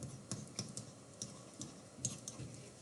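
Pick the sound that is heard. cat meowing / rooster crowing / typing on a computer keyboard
typing on a computer keyboard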